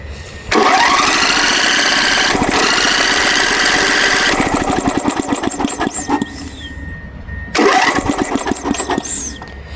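A lawn mower engine being cranked over, loud and close: a long run of rapid chugging turns with no clean catch, a brief pause, then a second shorter burst of cranking, with no talking.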